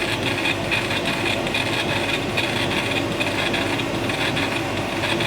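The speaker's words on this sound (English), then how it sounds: "I'm just going to turn my extractor on so that we can clear the decks here." An extractor fan clearing smoke through about 5 meters of tube runs with a steady, loud, continuous whirring roar throughout, with no speech.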